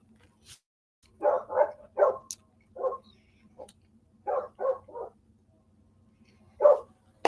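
A dog barks in short clustered bursts, loud then pausing, with a steady low hum behind it and no talking.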